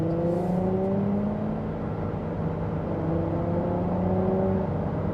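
A 2026 Chevy Trailblazer Activ subcompact with a 1.3 liter turbocharged 3-cylinder accelerates at half throttle in sport mode, giving a steady, fairly subdued engine drone and road noise heard from inside the cabin.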